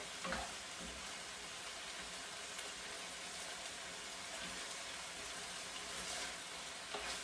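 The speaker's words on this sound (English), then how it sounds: "Okay, so I'm going to mix it." Pork with green onions and soy sauce being mixed in a hot pan: a quiet, steady sizzle with faint stirring scrapes at the start and end.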